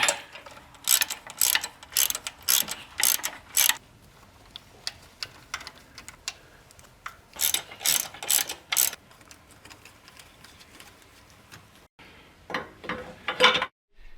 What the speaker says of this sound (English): I'm going to slide it in there and turn the strut nut.